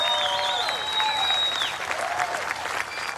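Steady, dense applause fills a large convention hall after a political speech, a continuous wash of many hands clapping with whistles rising above it.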